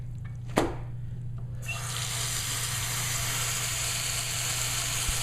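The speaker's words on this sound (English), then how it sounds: "I'm going to fill up the water." A sink fills from a tap after a brief knock, the water starting abruptly and then pouring in a steady hiss throughout.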